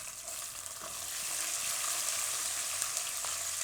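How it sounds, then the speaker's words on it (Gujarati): Green and red chillies hit hot oil in a pan while making mixed vegetable upma, giving a crackling sizzle that swells after a moment and keeps frying steadily with light stirring. "તો એમાં આપણે મરચાં નાખીશું લીલા અને લાલ મરચાં."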